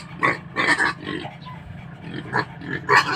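A pig grunting and snorting in short, uneven bursts, fairly close, over a low steady background hum.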